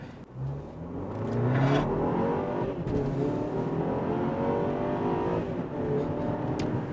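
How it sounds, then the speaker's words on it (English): A turbocharged four-cylinder car engine pulls hard under acceleration on a smooth country road, its rising drone and whir filling the clip steadily from start to finish with no talking. "You can hear a little bit of that turbocharged 4-cylinder engine."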